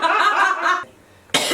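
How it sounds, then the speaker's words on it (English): A person coughs during a casual sit-down mukbang, a short burst of coughing followed by a brief pause and then another sharp, loud cough close to the microphone. "Coughing."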